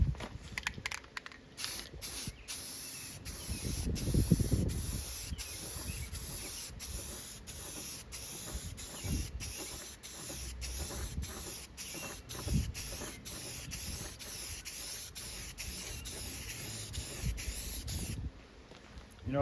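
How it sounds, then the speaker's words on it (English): Krylon satin black spray paint hisses from an aerosol can in a long run of short bursts and longer sprays, close and fairly quiet, ending with a final stop. "let's put some of this Krylon satin black on it"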